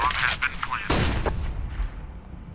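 A flashbang grenade in Counter-Strike: Global Offensive goes off with a loud, sharp bang over game noise, followed by a dull fading roar and ringing tail.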